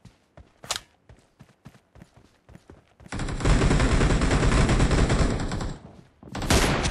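Gunfire in an arena shooter video game, scattered single shots and footsteps giving way to a loud sustained burst of automatic fire, a pause, then another burst.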